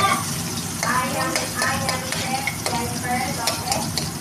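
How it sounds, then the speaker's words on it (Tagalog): Onion and garlic frying and being stirred in a pan for adobong kangkong, a steady close sizzle broken by repeated scraping stir strokes, with faint voices in the background. "Lalagyan na natin ng bawang kapag nag-golden brown na ng konti yung ating sibuyas."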